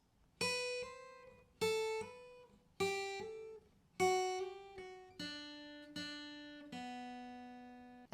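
Seven plucked guitar notes ring out one at a time in a steady, clear rhythm, playing a riff, each note decaying before the next, with no talking.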